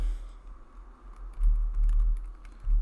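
Quick, light clicks of keys being tapped on a computer keyboard, a short irregular run of soft presses close up over a low hum.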